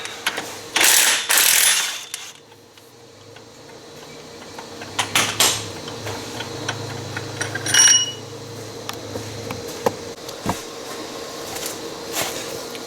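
A ratchet works loose an 18 mm clutch bolt during a blown-belt repair. A loud burst of rapid clicking comes early, then sparse, close metallic clicks and clanks follow over a low steady hum.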